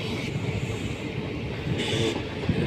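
Steady rumble and rattle inside a moving train on an Indian rail line at early morning, heard continuously and close with faint clicks of the wheels on the track, and no talk.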